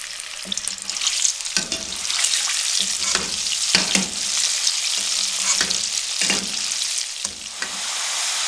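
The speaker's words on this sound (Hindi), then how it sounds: "अब मीडियम फ्लेम पे इनको 4 से 5 मिनट के लिए फ्राई करेंगे।" French fries deep frying in hot cooking oil over a medium flame, a loud dense bubbling sizzle that runs the whole time, broken by occasional stirring knocks, close up with no voices.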